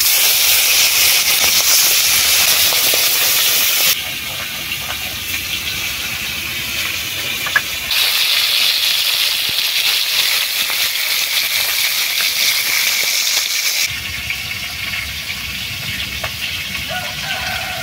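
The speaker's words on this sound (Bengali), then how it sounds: "তেল গরম হয়ে গেছে, মাছগুলো ভেজে নেব।" Fish frying in hot oil in a kadai: a loud, steady sizzle, a continuous hiss that shifts in intensity every few seconds, with no talking.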